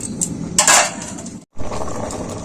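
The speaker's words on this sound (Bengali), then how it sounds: "আবারও এটাকে আমি কিছুক্ষণ ঢাকা দিয়ে দিচ্ছি" A lid set onto a cooking pot of mixed vegetables and pulses gives a single bright metallic clink, with a low kitchen hiss before and after and a brief silent gap.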